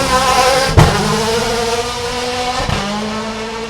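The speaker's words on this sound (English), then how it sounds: "he did promise me when I talked to him this morning that an electric car would sound good" An electric rally car launches hard on a forest rally sprint stage at Ashley Forest, a loud whining electric drive tone rising steadily with sharp bumps and tire noise, no talk over it.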